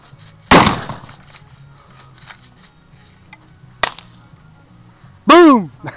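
Black powder handgun firing outdoors: one loud close blast early on, a sharper crack later, with people talking faintly and a steady low hum between shots.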